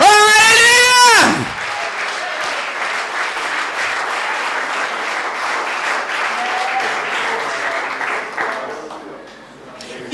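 A church congregation bursts into sustained applause and cheering during a worship service, a dense wash of clapping filling the room for several seconds after a singing voice breaks off, then thinning toward the end.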